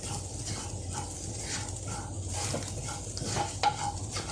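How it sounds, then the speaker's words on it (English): Ladyfingers masala sautéing in oil with red chili powder, a steady soft sizzle with spoon stirring scrapes against the pan and one sharp clink near the end. "I'll saute it for some time."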